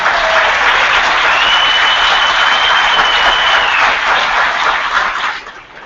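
An audience at a county judge executive debate applauds the candidates, a loud, sustained burst of clapping that holds steady and then fades out at the end.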